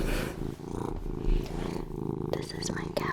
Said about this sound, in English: Waffle is in the room, purring very loudly